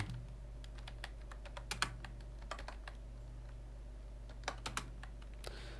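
Someone types an email on a computer keyboard: irregular clusters of crisp key clicks over a low steady hum, close by, with no speech.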